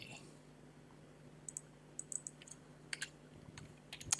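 Quiet bursts of keystrokes clatter on a computer keyboard in short, uneven runs of clicks over a low background hum.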